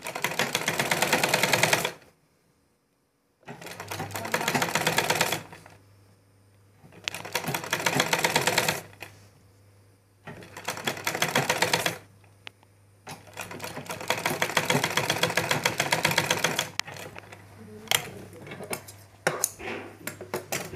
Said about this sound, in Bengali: বসানোর পরে ঠিক এই পাশে থেকে এখন আমাদের সেলাইটা শুরু করতে হবে